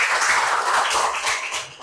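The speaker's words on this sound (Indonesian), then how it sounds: "Kasih apresiasi dong temannya, kasih tepuk tangan." Classroom of students clapping for a classmate, a steady dense patter of hands lasting the whole moment, close and fairly loud with no talking.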